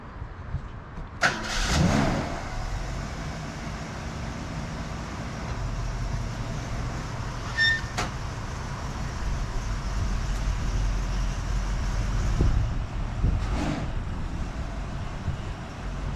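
A 1967 Mercury Cougar engine cranks and catches near the start, then settles into a steady, rough idle with a few sharp clicks and knocks over the running engine.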